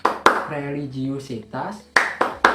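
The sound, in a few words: class clapping rhythm Tepuk PPK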